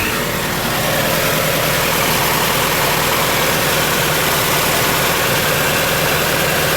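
A Subaru GC8 Impreza engine idles steadily and close by, a continuous low, even hum with a faint vibration, no voices over it.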